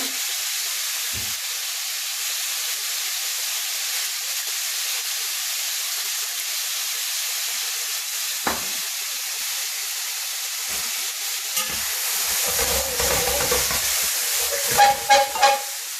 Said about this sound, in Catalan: Anem a posar-li el llamàntol. El saltarem dins de la mateixa cassola.